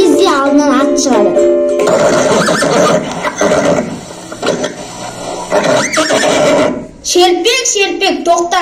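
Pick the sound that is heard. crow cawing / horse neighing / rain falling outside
horse neighing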